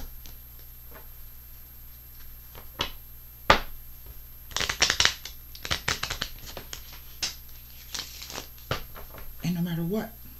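Tarot cards being handled and shuffled, with soft papery riffles, slides and flicks in scattered bursts, close and fairly quiet; a person speaks at times in between.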